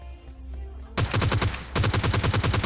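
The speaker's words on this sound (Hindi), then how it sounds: "कोई बंदा सेंटर रोड की साइड से एकेएम चला रहा था" AKM rifle fire in the PUBG Lite video game: after a short quiet lead-in, two loud rapid-fire bursts of evenly spaced shots rattle out back to back with a brief gap between them.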